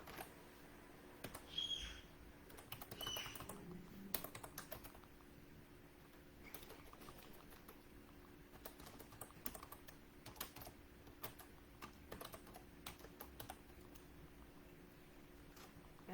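Keys clatter steadily on a computer keyboard while website details and an email are entered, a soft close patter of taps with short pauses, no voices.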